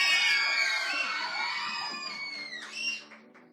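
Young people at a youth church service in Setúbal, Portugal, scream and cheer loudly, their high shrill voices fading slowly over a few seconds before a short final surge.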